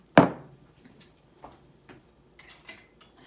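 A metal spoon stirs a Revólver cocktail of tequila, coffee liqueur and bitters, giving a few sparse, sharp clinks against the glass with one louder strike at the start and quiet gaps between.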